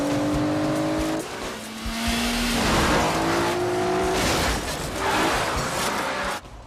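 A BMW and a Citroen race through city streets in a movie car chase. Engines rev and roar loud and close, with tires squealing and passing whooshes, and a sharp cut ends it.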